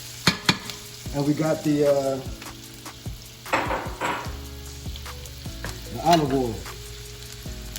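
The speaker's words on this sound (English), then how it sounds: "we're gonna take our onions, throw them in the skillet" Onions sizzle in butter and olive oil in a skillet, a steady hiss with bursts of stirring, heard beneath someone talking.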